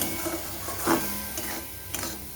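Spice masala sautés in a pan for a poached-omelette curry, making a steady sizzle. Quiet scrapes and taps of stirring cut through it at close range, with no talking.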